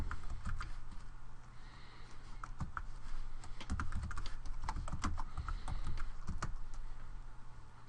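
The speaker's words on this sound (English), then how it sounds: "I can type a variable name here to see its current value." A computer keyboard is typed on during a MATLAB debugging session, giving a close run of irregular clicking keystrokes in quick bursts with no voice over them.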